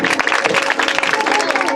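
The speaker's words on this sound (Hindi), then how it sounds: "बच्चे के लिए जोरदार तालियां।" An audience claps loudly for a child at a birthday gathering, a dense, continuous burst of applause with voices mixed in throughout.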